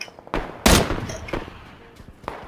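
Video game gunfire in PUBG: Battlegrounds, including an SKS rifle: several sharp shots, one loud close burst in the middle, with a few fainter shots following.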